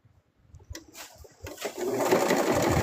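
Sewing machine stitching plush fabric, quiet and sparse at first with a few light taps, then building into a steady, continuous whirring run that holds to the end.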